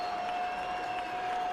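A sellout crowd of about 42,000 at a Braves–Padres baseball game roars in a steady, dense wash of cheering and clapping, distant and continuous throughout with no clear voice on top.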